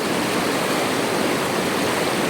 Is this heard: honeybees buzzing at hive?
no